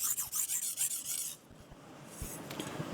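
A knife drawn across a sharpening stone with light pressure, a run of quick rasping strokes close by that give way to quieter, softer scraping with a few low knocks.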